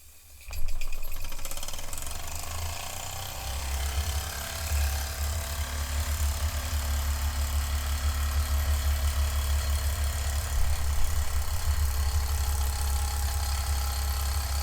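A Mamod SR1a toy steamroller's small steam engine runs steadily, a continuous rapid mechanical chatter and clatter over a low hum that starts abruptly and holds at an even, close, fairly loud level.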